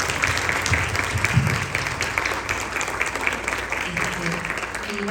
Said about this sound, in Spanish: vamos a darle un aplauso gigante a la profesora Nieves